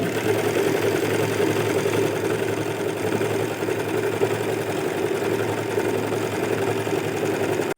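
An overlock sewing machine stitches cloth in a steady, fast, close mechanical whir with an even humming rhythm throughout, no voices over it.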